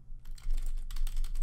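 Rapid keyboard typing, a dense run of close, crisp key clicks that briefly pauses and then continues.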